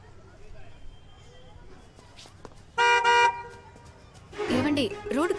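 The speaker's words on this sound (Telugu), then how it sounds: "ఆగున్న కార్ నుంచి హార్న్ కొడతారు ఎందుకండి" Car horn honking from a stationary car on an empty road, two short loud tonal blasts separated by a pause, over quiet background noise with faint speech.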